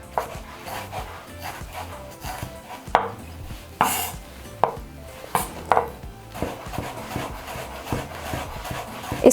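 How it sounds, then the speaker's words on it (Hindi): A knife chops ginger on a cutting board as a garnish for mutton karahi, making a series of sharp, irregular knocks close by with a quieter background between strokes. "अदरक उसे चॉप करते हैं"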